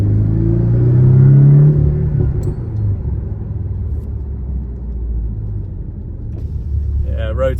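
A Porsche Cayman 718 fitted with a K&N panel filter driving on a damp road, its engine giving a low steady rumble that swells briefly early on, then settles into a muted cabin drone.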